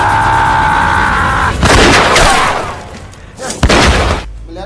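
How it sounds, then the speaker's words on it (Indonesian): Sharp gunshots crack out in a film scene, a couple of loud blasts with reverberant tails, following a steady tone and mixed with other action noise. "suara tembakan terdengar dari arah belakang Dan."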